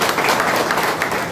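A crowd at a political rally claps, thick and loud applause that holds steady for a brief burst.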